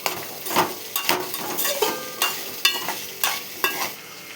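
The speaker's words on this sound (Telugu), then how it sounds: "ఉప్పు సరిపడా వేసుకొని కలబెట్టాలి." Food in a pan being stirred as salt is mixed in, a series of sharp scraping strokes roughly every half second over a faint sizzle, close and clear.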